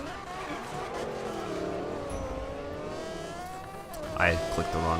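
Koenigsegg Regera engine in Need for Speed Payback racing, a continuous revving drone with shifting pitch as it accelerates, a brief louder burst near the end, with voices speaking over it.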